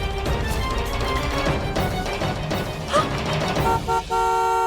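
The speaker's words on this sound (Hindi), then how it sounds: "पीछे वाले भी हॉर्न मार रहे हैं" Busy traffic with several car horns honking, short toots layered over engine noise, ending in a long sustained blast close by.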